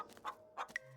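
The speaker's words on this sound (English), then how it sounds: "a series of weak clucks call out from a nearby bush." In the Scarlet Hollow video game, a chicken gives a few short, soft clucks from a nearby bush, quiet and uneven in rhythm with no one talking.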